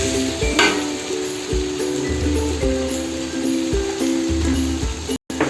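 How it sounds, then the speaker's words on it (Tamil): Tomatoes frying in a pan while cooking home-style biryani: a steady, loud sizzle with bubbling crackle and occasional stirring scrapes, continuous throughout with no talk. "நல்லா ஃப்ரை ஆயிடுச்சு"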